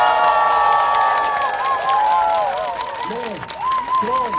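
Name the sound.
crowd applauding and cheering at a campaign rally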